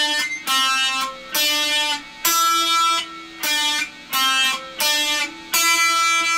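An electric guitar plays the opening riff of a song, steady repeated picked phrases with short pauses between them, alone and clear at close range.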